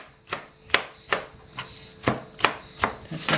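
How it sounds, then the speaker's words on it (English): Knife chopping zucchini pulp roughly on a board for a stuffed zucchini filling, about nine sharp, close chops at an uneven rhythm, with no talking. "You chop all of this up roughly to put into the filling."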